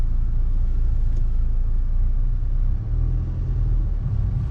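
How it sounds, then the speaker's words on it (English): A car driving off after being freed from snow, a steady low engine rumble and drone close by, fairly loud and continuous with a slight dip partway through, no talking. "Yes, the vehicle is no longer stuck in snow"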